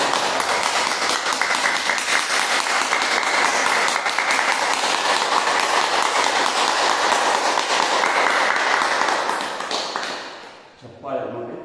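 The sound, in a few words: group clapping hands as yoga exercise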